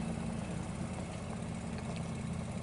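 A small tractor engine idles steadily in Farming Simulator 25, a constant low rumble with no voices over it.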